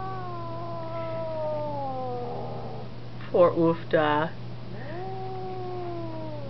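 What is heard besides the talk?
cat meowing and caterwauling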